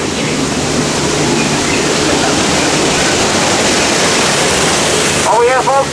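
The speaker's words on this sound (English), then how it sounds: "right ahead there, folks, that is Schweitzer Falls" Schweitzer Falls on the Disneyland Jungle Cruise ride pours with a loud, continuous roar of falling water close by, and a voice breaks in near the end.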